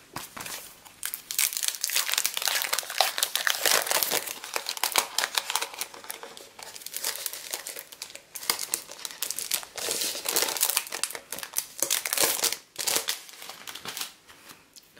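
Scraps of patterned paper being handled for a baby-girl scrapbook mini album, close crinkling, rustling and rubbing in irregular bursts over about fifteen seconds, with no talking.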